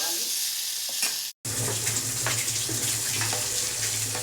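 Two large finely chopped tomatoes go into a hot pan for spicy tomato rasam and are stirred, bringing a loud, continuous sizzle and crackle with scraping touches after a very short break, and no talking.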